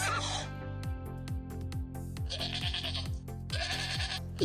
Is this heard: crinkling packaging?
no